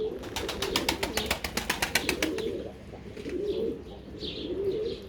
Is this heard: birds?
yes